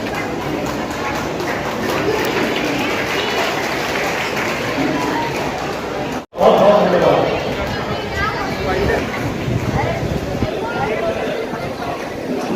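An audience at a railway station redevelopment inauguration claps in a steady, dense wash that runs almost the whole time, broken by one brief dropout, with speech mixed in underneath.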